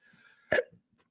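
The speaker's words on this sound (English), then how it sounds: "Oh, I was trying to beat these hiccups." A man lets out a single sharp, loud hiccup, with a softer follow-up catch of breath and a faint click after it, in an otherwise quiet room.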